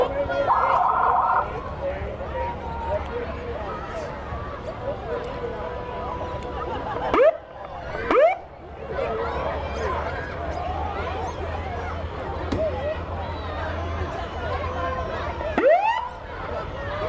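An ambulance siren at a Fourth of July parade in Menomonee Falls, Wisconsin, gives several short rising whoops spaced apart, heard over crowd noise and nearby people talking.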